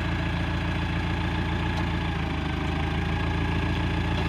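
Engine of a 2001 Sky Trak 6036 telehandler running at a steady idle, a loud continuous diesel drone with a low rumble that swells slightly partway through.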